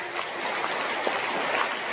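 Schoolchildren at an Urdu school program clap for fellow students, a dense, continuous burst of close applause.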